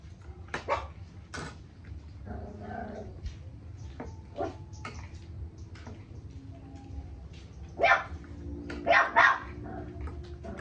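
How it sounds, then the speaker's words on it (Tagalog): A dog barks in several sharp, loud bursts over a low background hum, with the strongest barks clustered near the end. "Tapang ng aso mo ah."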